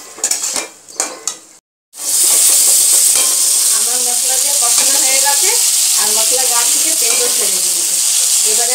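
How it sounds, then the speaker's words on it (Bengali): Spice masala for a Bengali fish curry with potato and raw banana sizzles loudly in a pan with salt, a steady hiss after a brief pause, broken by repeated scraping and clinks of a spoon stirring against the pot. "এবার ভালো করে কষিয়ে নেব"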